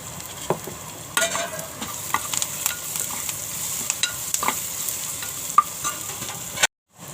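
A spoon stirs masala with softened tomato and turmeric powder frying in oil for a spicy matki usal, giving a steady sizzle with repeated close scraping strokes before an abrupt stop.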